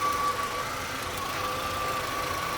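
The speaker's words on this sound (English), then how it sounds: "intermittent misfire" A car engine idles with an intermittent cylinder misfire, a steady close mechanical drone with faint irregular knocks and a thin whine above it, no voices.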